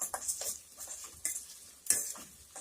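Garlic for garlic kuzhambu sautéing in a pan, a soft sizzle broken by a few sharp scrapes and clinks of a spoon stirring against metal, close up with no voices.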